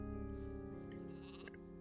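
Sheep bleating in the video game Gothic 2, a single close bleat heard over a steady bed of game ambience and music, with no talking.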